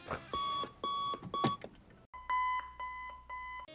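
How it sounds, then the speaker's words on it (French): Alarm clock from Five Nights at Freddy's 4 ringing in repeated bursts of shrill electronic beeping, short pulses separated by brief gaps, a slight break partway through before the ringing resumes with a low hum underneath. "on passe sur un réveil bien connu que l'on retrouve à la fin de toutes les nuits de Five Nights at Freddy's 4"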